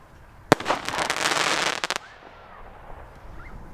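Party-box fireworks set off outdoors: a sharp bang, then about a second and a half of dense crackling bursts and pops, ending in a few quick cracks before the sound falls quiet.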